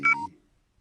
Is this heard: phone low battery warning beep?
yes